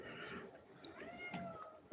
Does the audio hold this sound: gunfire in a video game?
no